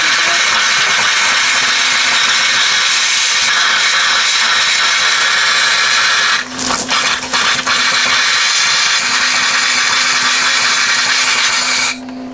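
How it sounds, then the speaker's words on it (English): Compressed air blows water out of a camping trailer's taps during winterizing, a loud continuous hissing rush that sputters and breaks up midway before surging steadily again. "let the air compress inside and then I will open up the taps again."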